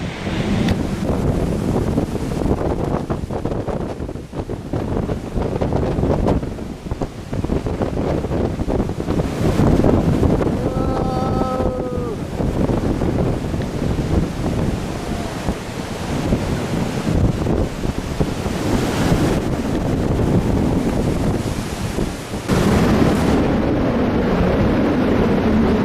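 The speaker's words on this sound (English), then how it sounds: "Wind gusts." Strong storm wind gusts roar across Mt Buningyong for the whole stretch, a loud, continuous buffeting rush with swelling surges and heavy wind noise on the microphone, no one speaking.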